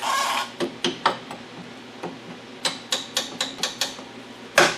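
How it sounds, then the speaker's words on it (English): Sharp metallic taps ring out in irregular bursts, a brass hammer striking a Toyota strut repeatedly at close range, ending with one heavier blow. "I have a brass hammer, just to kind of give it a little bit of a smack."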